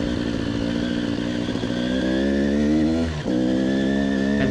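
An enduro motorcycle laps a motocross-style track, its engine droning loud and steady with a rising rev, a brief dip near the end and then a pickup again, heard alone without voices.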